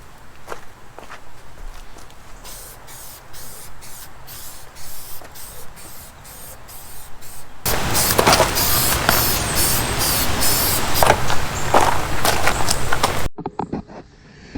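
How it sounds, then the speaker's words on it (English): Plastic trim restorer sprayed from an aerosol can onto the trim of a diesel Volkswagen Jetta: short spray bursts at first, then a long continuous close hiss, with shuffling footsteps around it. "Basically, you shake it up really well, you give it some nice coats, and then you wipe all the excess off all the way around it."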